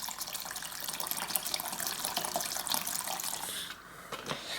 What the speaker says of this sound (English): So I'm just going to dump some of this degreaser into here like this.